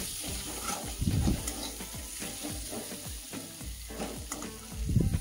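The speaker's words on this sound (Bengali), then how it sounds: "তো ভালো করে লাল লাল করে পেঁয়াজ কুচিগুলো ভেজে নিলাম" Chopped onions frying in a pan for a cauliflower and rohu fish curry, a steady close sizzle broken by repeated scraping and stirring clatter, with no voices.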